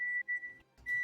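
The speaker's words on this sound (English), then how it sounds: "I'm so sorry for the beeping." A loud kitchen microwave beeps in sustained, steady tones, several beeps separated by brief gaps, close to the microphone, with no one speaking.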